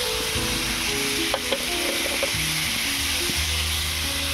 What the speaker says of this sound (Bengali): পেঁয়াজ আদা রসুন ভাজা ভাজা হয়ে এসেছে